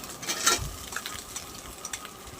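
Mixed vegetables frying in a small amount of oil in a pan, a soft sizzle with scraping stirs and a few light clinks of utensil on metal, close and moderately quiet.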